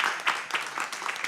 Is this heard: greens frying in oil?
no